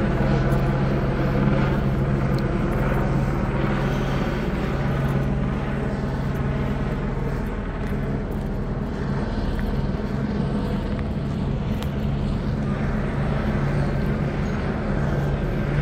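Police helicopter Starlight circles overhead during a car chase response in Hemet, its rotor and engine drone steady and loud throughout with no clear speech.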